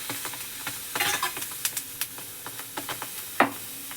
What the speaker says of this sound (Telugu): పచ్చిమిర్చిని ఆయిల్ వేయకముందే మంచిగా కొంచెం ఎర్రగా వేగనివ్వాలి.